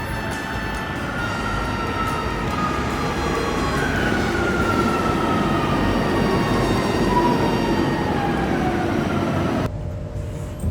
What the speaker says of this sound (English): I took train at Angel Jimera station, and here's the airport